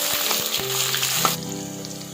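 Shallots and fenugreek seeds frying in hot sesame oil for a tamarind gourd curry, a steady close sizzle with a few soft stirring knocks and a brief louder crackle near the end.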